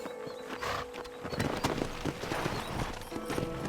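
Horse galloping in the Red Dead Redemption video game, a steady rapid clip-clop of hooves carrying on throughout over a busy bed of game ambience and music, fairly close and moderately loud.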